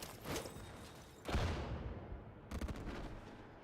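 Explosive bursts from grenades in the Warframe shooter game: a sharp blast near the start, a heavier booming detonation around a second later, then another burst of rapid crackling shots, all loud and close with no talk.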